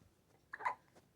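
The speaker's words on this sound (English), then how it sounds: "Hopefully these hiccups go away soon." A baby girl hiccups once, a short sharp catch of breath followed by a soft tail, close and fairly quiet against a still room.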